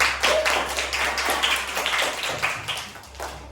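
A class of schoolchildren claps hands together in a classroom during a lesson, a dense steady patter of many small claps running throughout at moderate loudness.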